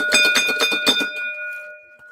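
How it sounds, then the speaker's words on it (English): A hand bell rung several times in quick succession, bright clear ringing strokes that then fade out in a lingering decay, close and fairly loud with no talk. "It's still early enough in the evening where I'm not going to get in trouble for ringing the bell."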